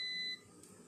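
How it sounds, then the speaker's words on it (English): An air fryer sounds its timer-end alert: a thin, steady electronic beep held for about a third of a second, then cut off, leaving quiet room tone in a kitchen. "as you can see, my air fryer beeping."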